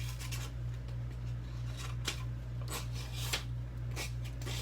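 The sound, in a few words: knife blade test-cutting material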